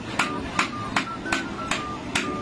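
A hammer strikes about six times at a steady, even pace, each hit a crisp, close metallic tap ringing over a faint hum of background noise.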